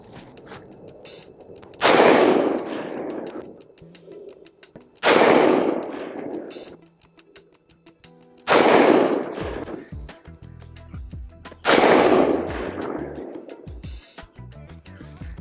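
An AR-15 designated marksman rifle chambered in .223, loaded with 69-grain Sierra MatchKing open-tip match rounds, fires four sharp, loud shots spaced about three seconds apart, each followed by a brief echoing decay outdoors.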